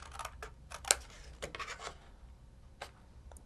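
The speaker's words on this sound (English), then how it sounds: "Now I'm going to trim these out using my Cutter Bee scissors." Cutter Bee craft scissors snip through thin craft cardstock in a few quick, close, crisp cuts separated by quiet pauses, with light paper rustle in between and no talking.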